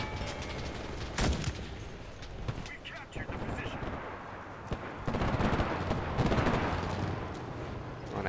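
Gunfire in the war game Enlisted cracks as distant scattered shots and volleys over a continuous battlefield rumble, with someone talking at times.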